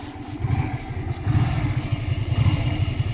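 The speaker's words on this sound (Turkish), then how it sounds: "Bir de şöyle gaz verince sesi nasıl çıkıyor ona bakalım." A Honda Shadow 125 V-twin motorcycle engine revs up close, its throttle blipped in short pulses over a steady idle rumble.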